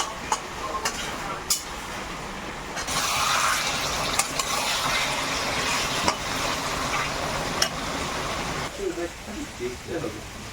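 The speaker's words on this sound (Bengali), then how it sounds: "আর একটু নাড়াচাড়া করে নেবো" Bottle gourd being stirred with a utensil as it cooks on a gas stove, a steady frying hiss with occasional sharp clinks of the spoon against the pan, with a voice talking over it.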